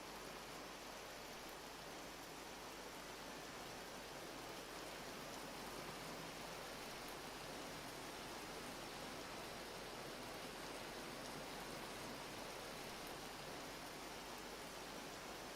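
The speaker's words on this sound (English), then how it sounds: "I think it's hailing." Hail falls in Vintage Story as a faint, continuous hiss of dense pelting, a steady wash of tiny impacts that never lets up, with no voices over it.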